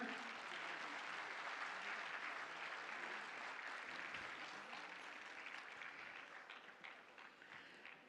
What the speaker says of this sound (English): if you give them a round of applause, their smiles become larger